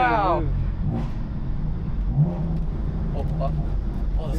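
Tuned BMW F82 M4 engine revs while driving, a steady mid-level engine drone heard from inside the car, with people talking over it.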